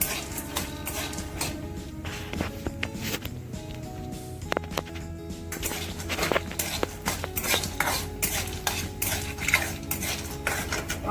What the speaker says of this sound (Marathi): आता आपले फुटाणे तळून झालेले आहेत